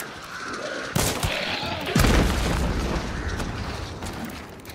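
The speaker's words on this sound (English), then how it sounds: "The explosion." In the video game Hunt: Showdown, a thrown bomb goes off as a loud, close blast with a sharp onset, followed by another heavy boom and a long rumbling decay under distant gunfire.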